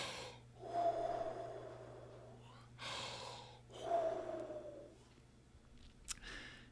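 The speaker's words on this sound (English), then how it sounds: "Deep, cleansing breaths." Deep, slow breathing alone: two long cleansing breaths, each a whooshing inhale followed by a long, audible exhale, close to the microphone over a faint steady hum.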